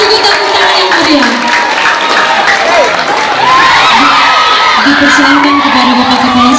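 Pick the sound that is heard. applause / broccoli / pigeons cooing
applause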